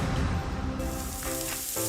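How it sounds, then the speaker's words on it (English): Gain scent booster beads poured into a laundry load, a brief loud hissing, sizzling rush of tiny pellets that tapers off, then a short final patter, close and alone. "That's the sound of James adding long-lasting Gain scent boosters to his laundry this morning."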